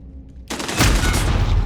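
A Vector submachine gun fires in Call of Duty Modern Warfare. After a short near-silent moment, a loud, rapid, continuous burst of automatic fire kicks in and holds to the end.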